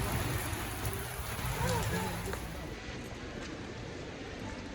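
Heavy rain pouring down outdoors, a dense, loud, continuous wash of broadband hiss with no talking.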